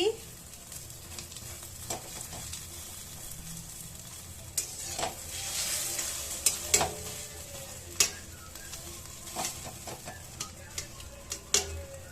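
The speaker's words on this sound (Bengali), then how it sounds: "ডিমটা ভাজা হয়ে গেছে দেখো" A folded omelette frying in a pan, a soft steady sizzle with scattered sharp ticks and spatula taps, faint and close, with a brief louder hiss midway.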